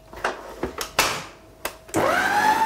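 A few knocks and clatters, then an electric mixer whirs up to a steady, rising hum as it blends cupcake batter of flour, baking powder and oil.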